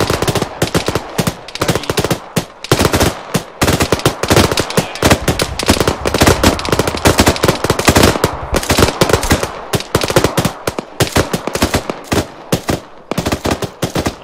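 Sustained machine-gun fire in the Arma 3 video game, loud and close, with rapid continuous bursts and brief gaps between them, and no voices.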